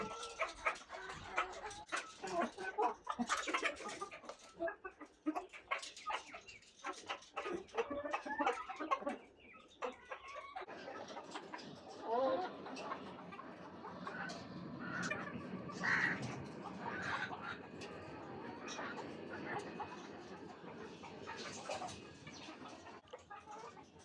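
Chickens clucking as they peck at bottle gourd leaves, soft scattered clucks and calls near the microphone, with a dog and other birds faintly in the background.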